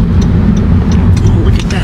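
An old-school car engine idles with a steady low rumble and a broadband roar, loud and continuous throughout, with faint speech-like sounds in the background.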